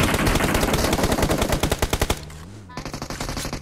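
Rapid automatic AKM gunfire in PUBG Mobile, loud and close, in dense bursts with a short pause before the firing resumes.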